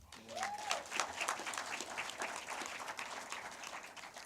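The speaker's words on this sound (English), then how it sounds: "Parents, round of applause." Audience applause at a graduation ceremony for ADMI's Class of 2022, a dense, sustained wash of clapping from a large crowd that carries steadily throughout, with a brief tone near the start.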